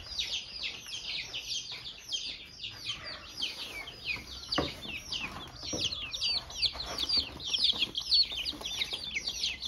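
A flock of laying hens clucks continuously in overlapping bursts, with close, busy calls running throughout and no talking.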